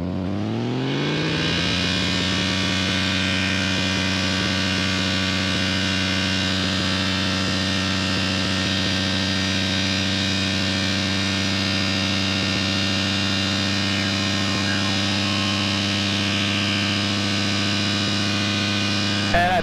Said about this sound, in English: experimental Kitfox departing runway 18, staying in the pattern